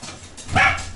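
A dog gives one short, close bark, a quick sharp yip in an otherwise quiet indoor room.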